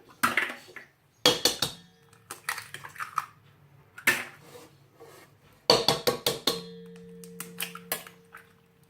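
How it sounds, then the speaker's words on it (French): Three eggs cracked into a mixing bowl for a homemade strawberry cake batter, heard as sharp, close taps and clinks against the bowl rim in separate bursts, with shell crunching and a bit of bowl rattle between them. "on va casser les 3 œufs"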